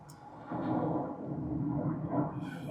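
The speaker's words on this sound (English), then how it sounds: "No, that's an aeroplane." Aeroplane passing overhead, a low broad distant rumble that swells and holds steadily for a few seconds, faint and diffuse with no voices.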